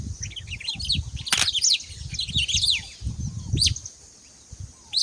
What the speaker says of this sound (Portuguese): passarinho, coisa mais linda